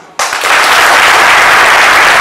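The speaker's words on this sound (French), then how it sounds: "cela mérite de vigoureux applaudissements" Loud, sustained applause from a large audience bursts in suddenly and holds steady as a dense wash of clapping, with no talk over it.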